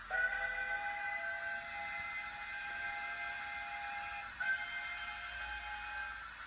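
A steady, high steam whistle sound effect from a Hornby model train set sounds continuously, faint and thin, with a short click partway through.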